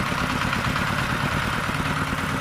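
A modified ride-on tractor pushing soil gives a loud, steady engine drone that stays close and unbroken, with no talk over it.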